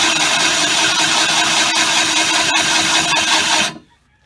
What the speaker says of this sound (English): you don't want to put any pressure on the drill